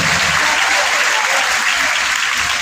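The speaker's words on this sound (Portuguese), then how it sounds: "Uma salva de palmas para os 58 anos da Assembleia de Deus de Maracajá." Church congregation applauding at an Assembleia de Deus anniversary service, dense loud continuous clapping from many hands filling the whole moment, with faint voices mixed in.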